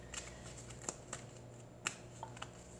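Someone shuffles a mini Oracle deck, giving soft, quick papery riffles and light taps with a few sharper clicks. The sound is faint and close against a quiet background.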